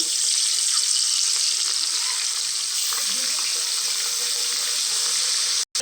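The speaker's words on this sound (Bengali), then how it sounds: "সুন্দর করে গরম হয়ে গেছে, মাছ কাটা ভালো করে ভেজে নেব" Pieces of parshe fish fry in hot oil in a pan, giving a steady, loud, even sizzle that holds throughout with no talking, cutting off abruptly at the very end.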